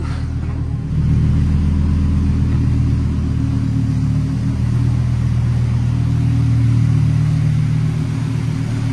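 A Lamborghini Huracan Evo on a drive in the Dubai desert, its engine droning and revving loudly and steadily close up, with a brief quieter moment at the start.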